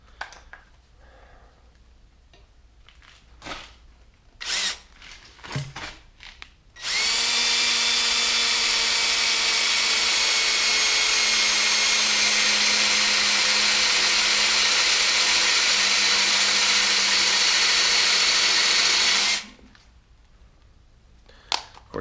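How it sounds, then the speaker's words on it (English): A power drill bores wire holes into a utility trailer's frame in one loud, close, continuous run of about twelve seconds, preceded by brief clanks and handling noise. "I'm going to drill the wire holes first."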